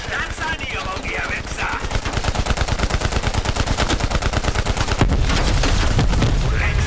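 Sustained automatic gunfire in the shooter Call of Duty Cold War, a fast, even, loud rattle of shots that runs throughout, with shouted voices briefly mixed over it.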